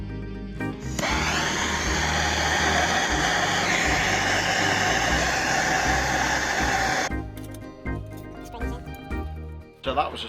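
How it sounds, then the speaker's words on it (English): A Volkswagen Transporter T5 van's 1.9 TDI diesel engine starts up and runs steadily with a dense mechanical roar, then cuts off, leaving scattered clanks and handling noises. "engine started"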